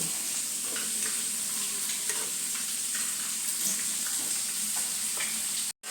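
Stirring and sizzling of a curry cooking in a pan, with scraping strokes against a steady fry, a few distinct stirs, close and moderately loud, ending with a brief clatter as the pan is handled.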